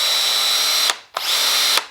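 A Festool T18 cordless drill whirs at a steady high pitch, close and loud, in two bursts of just under a second each separated by a brief spin-down and restart.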